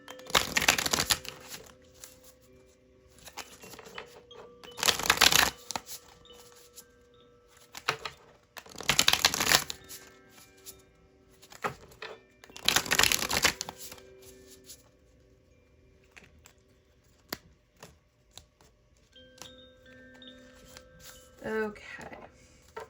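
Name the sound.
shuffling tarot cards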